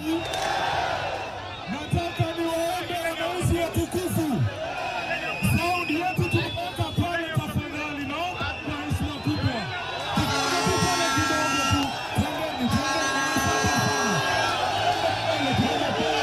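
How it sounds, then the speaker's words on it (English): A large crowd at a political rally in Kenya roars and cheers continuously, loud and close, with rhythmic thumping beats underneath and whoops rising through the dense noise. "Well, the crowds are there."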